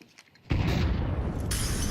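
A flashbang grenade pops in Counter-Strike 2 during a tournament match: a sudden loud burst followed by a sustained bright hiss and ringing that stays loud to the end.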